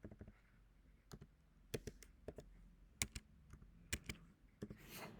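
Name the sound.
typing text on a computer keyboard in Excel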